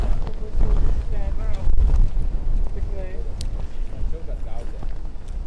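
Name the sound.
wind blowing over the water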